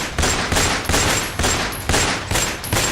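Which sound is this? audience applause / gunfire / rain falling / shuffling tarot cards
gunfire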